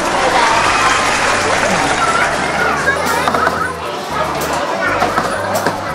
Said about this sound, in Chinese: 俾啲掌声妈咪啦！